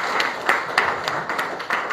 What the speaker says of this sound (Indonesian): Mari kita berikan tepuk tangan terbaik buat Tuhan.